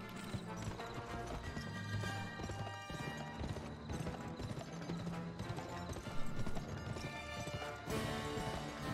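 A horse gallops in the western video game GUN, its hooves drumming a fast, steady clip-clop that runs loud and unbroken over a dense game soundtrack.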